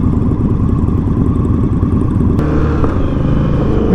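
A 2015 Indian Scout Bobber motorcycle engine running while riding, a loud, steady throbbing rumble from close by that holds through the whole stretch, with a slight shift in tone partway through as the ride goes on.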